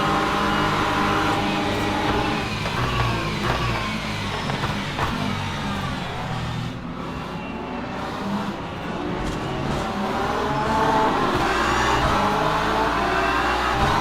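A Porsche race car engine in the sim racing game Le Mans Ultimate, at Paul Ricard, drones steadily and loud throughout, with shifting engine tones and rising revs near the end.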